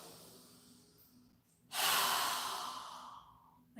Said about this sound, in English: take 3 deep breaths, inhaling through our nose and exhaling strongly with our mouth open